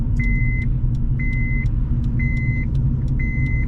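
A car sits with its engine running or cranking in a steady low rumble, while a repeating electronic dashboard chime beeps at a regular pace about once a second over it.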